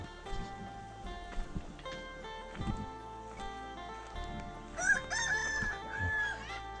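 A rooster crows loudly nearby, its call rising and wavering, amid farmyard clatter and low background noise.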